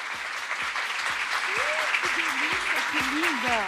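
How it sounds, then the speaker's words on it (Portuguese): Lively applause from a crowd at a women entrepreneurs' forum, with rhythmic thumps and voices cheering and calling out over the clapping. "Uma salva de palmas."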